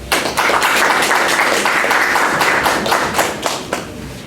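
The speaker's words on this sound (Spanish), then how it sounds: "a quien recibimos con un fuerte aplauso" An audience at a formal forum applauds, with a dense, continuous burst of clapping that carries on for several seconds before beginning to thin out.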